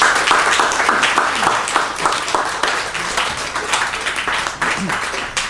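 An open mic audience applauds after a poetry reading, a dense wash of many hands clapping fairly close, sustained for several seconds before tapering, with a voice briefly audible within the clapping.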